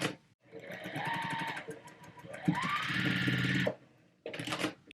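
A sewing machine stitches quilt pieces together in two steady runs, its rapid mechanical whirring loud and close, broken by a short pause and then a brief final burst.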